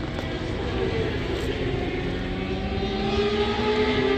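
An older Yamaha R6 sport bike runs on the Jarama racing circuit near Madrid, a steady, moderately distant engine drone whose pitch rises gradually as it passes.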